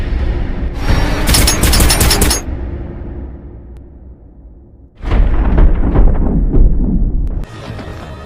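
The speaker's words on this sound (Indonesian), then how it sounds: "ayahnya datang berlari mendekat namun terkena beberapa tembakan juga oleh pelaku" Bursts of gunfire in a mafia action film scene where a man running toward his shot son is hit, loud rapid volleys crackling in two main stretches with a quieter lull between, no talk.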